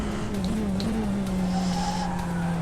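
A race car in the racing game rFactor 2 accelerates out of a corner with a steady engine drone rising slowly in pitch, with faint tire squeal mixed in.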